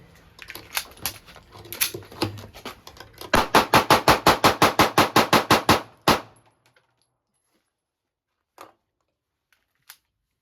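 Pistol fire from a Springfield Armory Hellcat and a Sig Sauer P365 at a range, a fast string of about fifteen sharp, loud shots in even rhythm, then silence broken by two faint later clicks.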